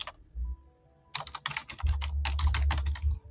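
Someone types on a computer keyboard, filling in form fields with names, email and company. Rapid close key clicks come in quick bursts after a short pause, and no one speaks.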